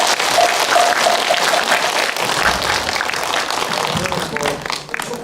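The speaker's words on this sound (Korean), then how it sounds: "박수로 맞아주시기 바랍니다." An assembly audience at a Buddhist dharma gathering breaks into steady, dense applause to welcome a member of the National Assembly to the stage, the clapping sustained throughout and tapering slightly at the end.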